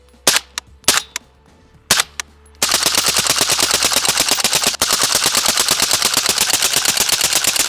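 A small rifle fires a few separate sharp shots, then is bump fired in a long, rapid stream of cracks with a brief break midway. The shots are loud and close, with an outdoor echo.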